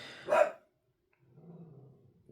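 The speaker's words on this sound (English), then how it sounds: "Dog." A single sharp dog bark comes from indoors, moderately close, followed by silence and then a low faint murmur.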